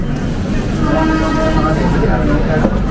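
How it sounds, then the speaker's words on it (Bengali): Mithila Express train pulling out of Bardhaman station, a steady loud rumble of wheels and carriages rolling throughout, with voices talking underneath. "ট্রেন ছাড়লো বর্ধমান স্টেশন থেকে"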